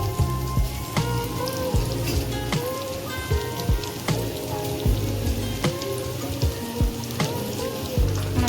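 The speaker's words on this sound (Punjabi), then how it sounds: "ਅਸੀਂ ਸਾਰਿਆਂ ਨੂੰ ਰੈੱਡ ਰੈੱਡ ਫਰਾਈ ਕਰਨਾ ਹੈ ਜੀ ਅਸੀਂ ਸਾਰਿਆਂ ਨੂੰ ਲਾਈਟ ਬਰਾਊਨ ਕਰਨਾ ਹੈ ਜੀ" Paneer kofte frying in oil in a kadai, a steady close crackling sizzle with sharp pops scattered throughout, no talking.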